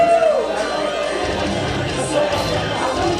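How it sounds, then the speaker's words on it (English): The crowd at an amateur wrestling club event cheers and shouts in a loud, steady roar as a wrestler works them up, with brief whoops rising above the din. "There you see Cedric Lionheart just pumping up that crowd."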